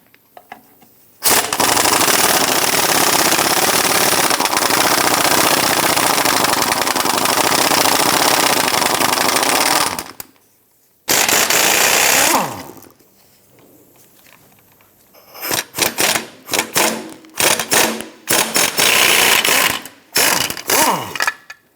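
Rapid bursts of a pneumatic impact wrench spinning off the four 15mm nuts on a 1997-2006 Jeep Wrangler transmission mount, with long loud runs broken by pauses, then shorter repeated stuttering bursts.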